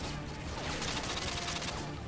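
Rapid bursts of gunfire ring out in the video game Call of Duty: Modern Warfare 2. The volley stays dense and continuous under a roomy game backdrop.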